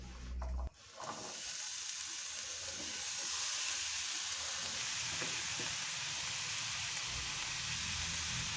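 Pear pieces drop into melted butter in a hot pan with a brief thump, and a steady, hissing sizzle then swells and holds, close and continuous, with no one speaking.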